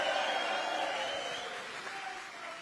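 A crowd at a boxing press conference for Josh Taylor and Jack Catterall applauds in a steady wash of clapping that slowly fades.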